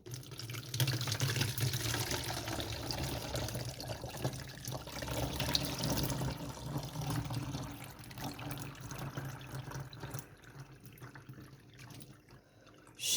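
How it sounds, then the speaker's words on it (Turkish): Liquid is strained and poured into a bottle, a continuous close trickle and splash that fades out near the end, with no talking. "Bak bunu ben şişeye alım."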